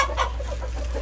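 A hen, in poor condition and being treated for cold weather, clucks repeatedly at close range in a short run of soft, throaty calls.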